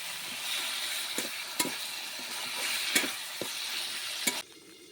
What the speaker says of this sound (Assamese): এইবাৰ দি দিলোঁ বিলাহীখিনি, আৰু বিলাহীখিনি ভালদৰে ভাজি ল'ম